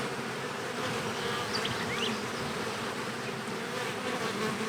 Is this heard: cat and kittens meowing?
no